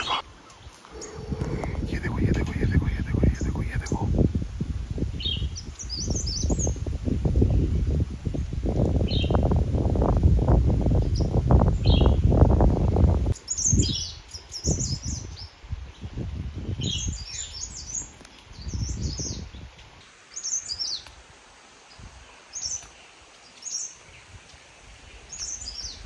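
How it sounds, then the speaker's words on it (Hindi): In the forest of Rajaji National Park, small birds chirp in scattered short calls again and again, at first beneath footsteps and rustling and someone talking, then more plainly in quieter stretches. "चिड़िया की आवाज़ सुनाता हूँ"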